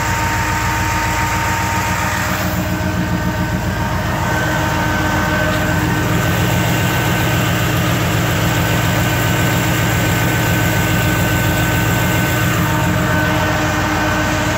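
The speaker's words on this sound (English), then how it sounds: "there's the fan just finally kicked on." A 1984 Chevy pickup idles with a low, steady engine drone, and its radiator fan kicks on, adding a constant whooshing layer. The sound is continuous and close, with no talking.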